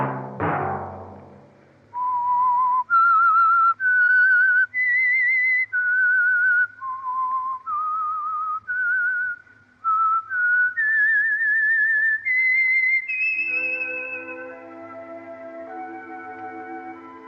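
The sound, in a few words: whistled theme signal of The Whistler radio program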